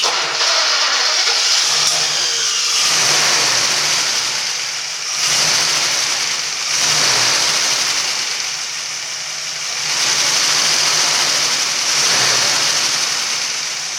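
Engine of a 1954 Studebaker sedan with a 6-volt system cranking while hot-soaked after new battery cables, a loud rhythmic churning that rises and falls in repeated surges with no voices.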